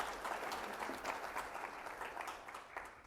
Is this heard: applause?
yes